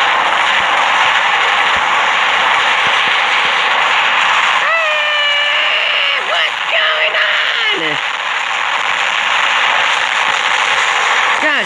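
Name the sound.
gunfire from robots in War Robots video game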